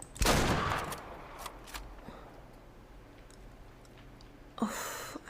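A hunting rifle shot in Way of the Hunter: one loud, sharp crack near the start with a rolling tail. Quiet ambience with faint ticks follows, then another burst of noise near the end.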